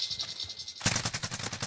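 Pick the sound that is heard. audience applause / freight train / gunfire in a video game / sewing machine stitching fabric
gunfire in a video game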